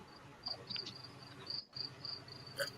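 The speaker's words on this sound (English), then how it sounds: "there's constantly crickets going on in the background" Crickets chirp steadily in the background outdoors, a faint, continuous series of high, repeated trills that runs through the whole stretch with no voices over it.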